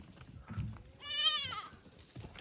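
A goat gives a single loud, wavering bleat lasting about half a second at a farm where the herd is grazing, with faint rustling and low background noise around it.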